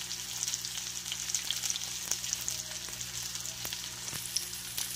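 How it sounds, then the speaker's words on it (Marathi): Fish pieces fry gently in oil in a pan on low heat, giving a continuous soft sizzle with light crackles and occasional faint clicks, close and steady with no voices. "कमी गॅसवर आपल्याला हे फिश फ्राय करून घ्यायचे आहे।"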